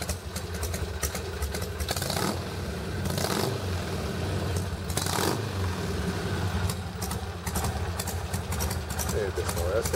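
A Harley-Davidson 883R motorcycle engine with a mechanical idle reducer idles steadily at about 700 rpm throughout, with a person talking over the rumble.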